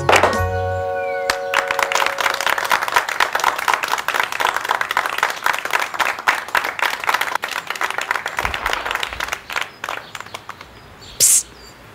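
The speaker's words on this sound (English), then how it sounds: "clap your hands." Hand claps keep time to a children's sing-along about being happy, a dense run of sharp, steady claps that carries on for several seconds and ends in a few scattered hits.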